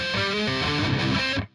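Heavily distorted electric guitar in drop C tuning plays the intro riff of a song, a short burst of dense, fast chugging that cuts off abruptly, loud and close with no talking.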